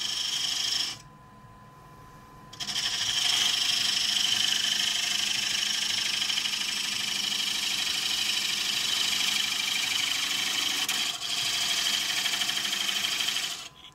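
A skew chisel cuts wood on a lathe, a steady high whirring hiss with a faint motor hum running for most of the stretch, broken by a short quiet pause near the start and a brief dip later on.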